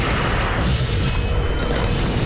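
Nuclear explosions in the video game Ratchet & Clank 3: Up Your Arsenal form a loud, sustained roaring rumble with a heavy low end that barely lets up.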